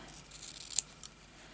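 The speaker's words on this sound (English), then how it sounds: "So we just want to cut this out." Scissors snipping paper for a vintage journal ephemera craft project, a few quiet close cuts with one sharper snip in the middle, no talking.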